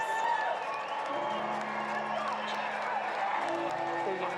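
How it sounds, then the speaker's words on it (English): A stadium crowd at a women's rugby cup final roars and cheers in a continuous, distant swell of voices and whoops with scattered clapping, holding steady throughout. "Hear the crowd and the reaction from the Breakers."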